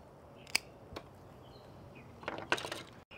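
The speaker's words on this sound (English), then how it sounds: "I would tell them, to cut off the dead flowers." Scissors snip dead flowers from a bouquet: a few sharp, separate cuts spread over a couple of seconds against a quiet background, with a cluster of rustling clicks near the end.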